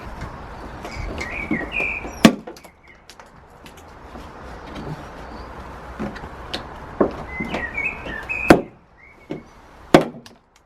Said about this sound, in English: I think I can just cut here and then pull it off